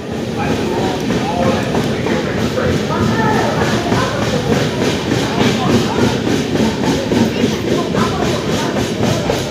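Dhauli Express passenger train pulling away from Jajpur Keonjhar Road station after a four-minute halt, a steady loud rumble with clattering wheel and carriage noise throughout.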